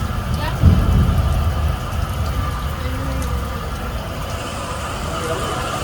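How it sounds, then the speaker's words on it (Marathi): Heavy rain falls on a road during a flooded monsoon day as cars pass, giving a steady broadband hiss with a louder swell of passing traffic near the start. "सुंदर असा पाऊस"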